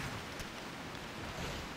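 Steady rain in the video game Kobold Tribes, a dense, even hiss of falling drops that holds constant without pause for the whole stretch.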